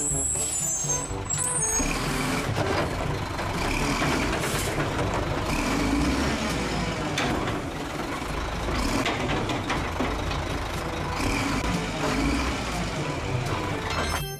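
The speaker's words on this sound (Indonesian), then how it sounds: "selanjutnya ada truk sampah" A garbage truck on a street, its engine rumbling loud and steady with hissing air-brake bursts and traffic noise around it, no one speaking.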